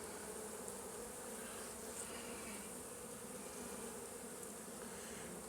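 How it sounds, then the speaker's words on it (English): Honey bees humming steadily at an opened hive with brood and pollen-filled frames, a dense, continuous buzz heard close and fairly faint with no talking. "it looks like there's a couple bees on there"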